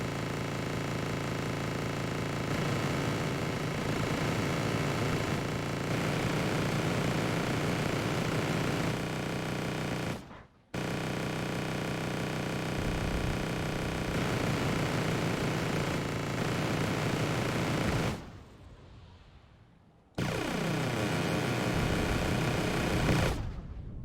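Military helicopters in the Wargame Red Dragon strategy game, a steady droning rotor and engine roar that runs continuously, cut by two brief drops to near silence.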